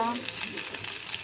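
Maggi noodles fry in a pan with oil, mayonnaise and chili sauce, giving a soft, continuous sizzle with faint stirring, quiet and close.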